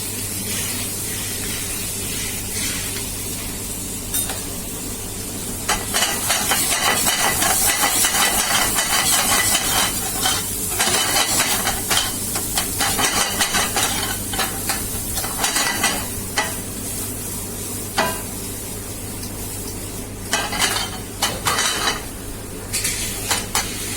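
Tomatoes frying in a pan, a loud steady sizzle broken by repeated scraping and clattering of a spoon stirring against the metal.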